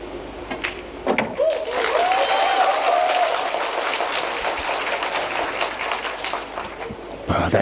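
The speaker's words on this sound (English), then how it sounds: "he hears all that cheering and whooping and hollering for him" A crowd at a 10-ball pool match at the 2025 Predator WPA Men's World Championship bursts into loud, sustained applause mixed with cheers and whoops, holding at full strength for several seconds before dropping off.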